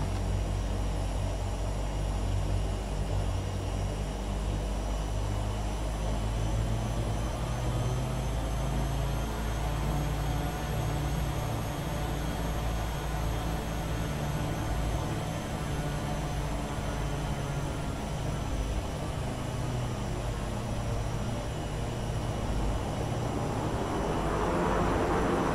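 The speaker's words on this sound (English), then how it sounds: "let's just test out our reverse thrusters to see if they're working properly" Simulated airliner reverse thrust in the Prepar3D flight simulator: a steady, loud jet engine roar that holds for the whole stretch and swells toward the end, with no talking.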